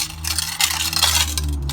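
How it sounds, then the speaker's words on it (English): A metal shovel is slipped under a garden pot and used like a sled to drag it, scraping and grinding against a hard surface up close: a continuous gritty rasp with a low background hum and no speech. "using a shovel, and just slip that, sorry about the noise, under the pot"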